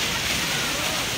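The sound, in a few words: Kempty waterfall in Mussoorie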